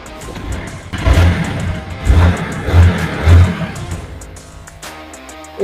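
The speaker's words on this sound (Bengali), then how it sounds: "ইঞ্জিনের সাউন্ড একদম স্মুথ," A 2019 Haojue TR 150cc motorcycle idles close by with a steady, smooth engine note, swelling in several short revs before settling back down.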